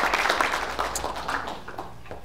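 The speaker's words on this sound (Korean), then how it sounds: "박수 한번 부탁드려요" Lecture audience applauding at a Korean economics talk, a dense patter of many hands clapping at moderate distance, steady for a couple of seconds and fading slightly toward the end.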